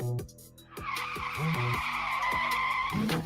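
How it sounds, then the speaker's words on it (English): Car crash sound effect played from a soundboard: repeated tire-skid squeals with revving engine over a broad noisy wash, loud and continuous for about three seconds. "I picked the car crash."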